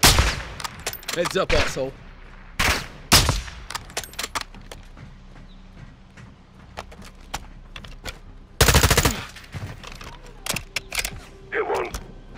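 Gunfire in the Modern Warfare II campaign comes in loud, sharp bursts and single shots separated by quieter gaps, with a long heavy burst late on, while someone speaks briefly between the shots.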